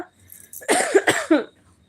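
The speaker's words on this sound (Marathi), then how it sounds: "आमचा काही खोकला कमी होईना झालाय" A person with a persistent cough gives a few harsh coughs in a quick cluster, close and fairly loud, with quiet moments before and after.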